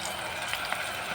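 Fish curry with onion paste frying in a pan, a steady dense sizzle and bubbling hiss throughout, close and continuous with a few small pops.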